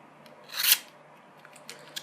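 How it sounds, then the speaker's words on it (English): A Cold Steel Recon 1 tanto knife, dulled a little after a wood torture test, slices through paper in one brief, crisp swish, followed by a couple of faint light scrapes. "Now let's see how sharp this knife is after all of that."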